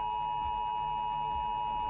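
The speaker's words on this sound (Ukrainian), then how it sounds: "Сповіщення на телефонах короткі і з паузами." A single steady electronic phone emergency alert beep holds at one pitch for about two seconds before stopping abruptly.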